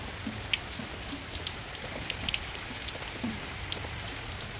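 Rain falls steadily on surfaces around a Bengali home, a soft, even patter with scattered nearby drips, heard alone without voices.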